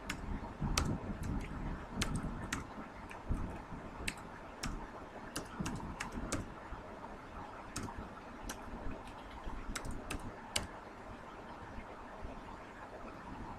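Someone types into a spreadsheet on a computer keyboard, producing sparse, irregular key clicks over a quiet room hum. The keystrokes come in short scattered bursts with pauses between them.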